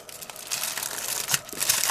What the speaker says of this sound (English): crumple it all up just like that.